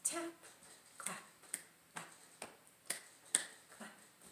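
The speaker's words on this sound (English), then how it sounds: "Lap, clap, tap, clap. A little faster for our song." A body-percussion rhythm of lap, clap, tap, clap for a children's sing-along, heard as sharp, crisp hand and body hits at an even, moderately quick pulse, alone and fairly close.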